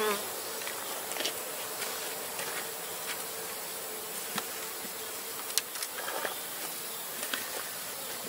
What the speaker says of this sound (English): these are gentlest bees